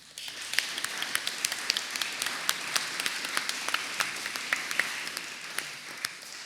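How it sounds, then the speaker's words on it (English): Applause from a conference audience, fairly faint and sparse, with individual claps standing out in an uneven patter throughout. "maybe we could just have a warmer round of applause"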